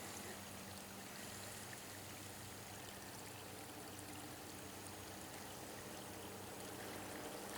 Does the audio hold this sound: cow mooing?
no